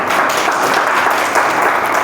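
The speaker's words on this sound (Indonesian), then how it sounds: "Kau mau tepuk tangan?" Church congregation applauding together, a dense, loud and even wash of clapping that fills the whole moment without a break.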